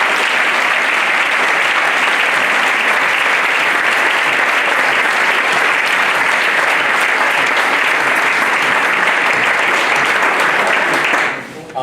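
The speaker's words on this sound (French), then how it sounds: "Est-ce qu'on peut acclamer pour Jésus?" A church congregation claps and cheers at a French-language service, sustained dense applause filling the room for nearly twelve seconds before cutting off abruptly.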